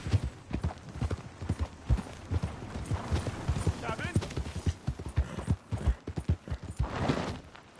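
Horse hooves clip-clop at a steady walking rhythm in Red Dead Redemption 2, close and clear, with a character's voice speaking briefly over the hoofbeats.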